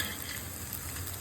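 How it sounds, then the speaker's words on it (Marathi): Arbi (taro) pieces fry on a large tava, a brief, steady, close hiss of sizzling oil with no pauses. "थोडेसे खरपूस भाजून घ्यायचे. माझा मोठा तवा असल्यामुळे मी जास्त टाकले आहे"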